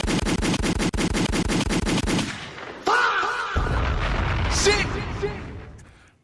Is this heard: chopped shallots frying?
no